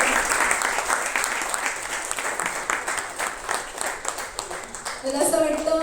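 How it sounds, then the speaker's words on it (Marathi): An audience at a devotional abhang music programme bursts into sustained applause, a thick wash of many hands clapping for about five seconds before a voice speaks over the fading claps. "चला टाळ्या म्हणून जाऊ दे त्यांचा"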